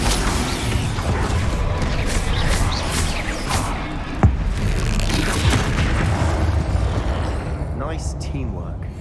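A Bombarda blasting spell goes off in Hogwarts Legacy during a fight with a troll, a dense rumbling blast with crashing debris over a steady roar, mixed with voices and shouts.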